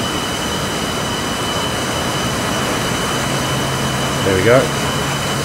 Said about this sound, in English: Engine 2 is still